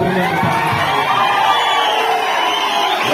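Crowd cheering and shouting at an outdoor BRS party event in Parakala town, a loud continuous roar of voices with children's shouts, steady throughout with no clear individual claps.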